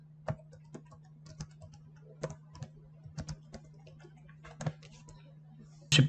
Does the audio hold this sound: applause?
no